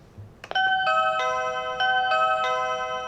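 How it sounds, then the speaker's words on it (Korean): A gate intercom doorbell rings with a clear electronic chime, repeating its bright tones several times after a soft click, close and alone without talk. "초인종을 눌러보면"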